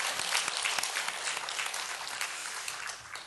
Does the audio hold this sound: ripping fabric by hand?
no